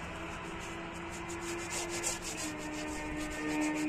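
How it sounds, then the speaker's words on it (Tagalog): Steady scrubbing of a surface, a continuous rubbing and brushing texture held close and fairly loud, with a faint tonal hum running underneath throughout. "kuskusin mo maigi."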